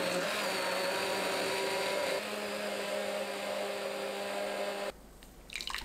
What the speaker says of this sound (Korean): 믹서에 부추 25g, 물 150ml 넣고 곱게 갈아주세요.